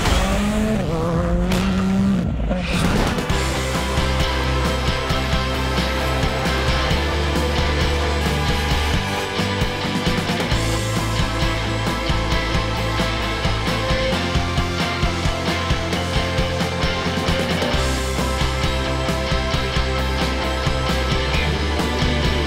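Škoda turbo race car at a motorsport event, engine roaring loud and continuous with screaming revs, gear changes and tire squeal, a dense sustained racing sound throughout.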